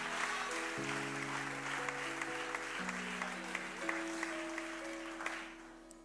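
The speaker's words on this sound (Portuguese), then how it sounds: "Aplauda Jesus." Church congregation applauding Jesus during a service, a broad steady wash of clapping under sustained organ or keyboard chords that shift pitch, moderately loud throughout and fading slightly at the end.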